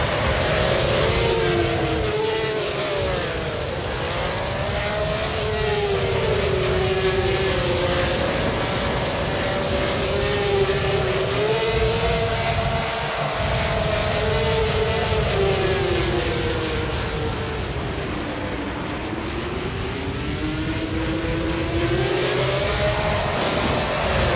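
Several racing car engines from the XGRA racing video game rev loudly and continuously at the race start, their pitch rising and falling in sweeping waves and filling the whole stretch without talk.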